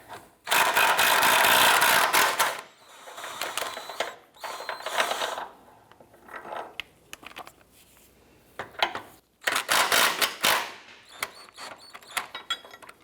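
A ratchet and socket work transmission mount bolts loose on a 2004-2008 Acura TL, with several bursts of rapid close clicking separated by pauses and quieter handling noises.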